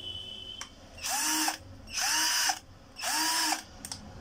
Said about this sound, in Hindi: और ये ड्रिल मशीन है।